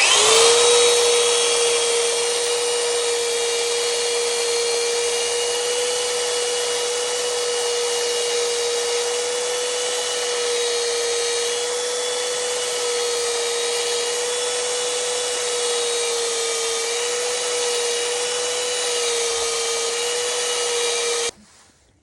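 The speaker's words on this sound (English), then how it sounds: "Now I'm just sanding out the Legos." A power sander whines steadily and loudly for about twenty seconds at an even pitch while sanding Lego blocks, then cuts off abruptly.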